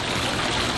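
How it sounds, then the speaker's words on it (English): Water sprays up into the air at a children's museum exhibit, a steady, dense rushing hiss that stays loud and unbroken throughout. "It's a lot of water spraying up in the air"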